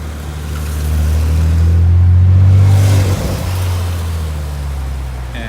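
Car engine revving at a car meet, a loud low roar that swells over about two seconds, then drops away and settles into a steady rumble.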